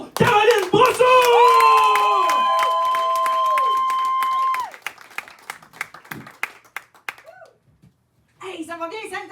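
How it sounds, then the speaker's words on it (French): A crowd claps and cheers for a performer named Caroline Brousseau, mixed with sustained voices and whooping at first, then thinning to scattered individual claps before voices rise again at the end. "J'aimerais ça qu'on donne un tonnerre d'applaudissements pour Caroline Brousseau!"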